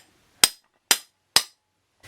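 Three sharp, evenly spaced hammer taps drive pieces into place on a DeWalt scroll saw armlift build, each crisp and close with a quick decay, the blows about half a second apart.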